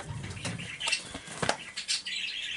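Pet parakeets chirping and fluttering indoors, with short scattered high tweets and soft wing flaps at close range, no talking.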